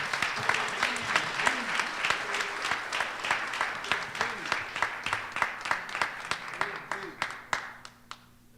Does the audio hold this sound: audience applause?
yes